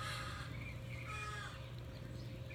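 Crow cawing outdoors, a few hoarse calls at moderate distance over a steady low background hum, no voices.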